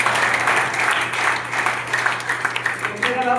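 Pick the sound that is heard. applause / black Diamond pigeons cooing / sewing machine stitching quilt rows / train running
applause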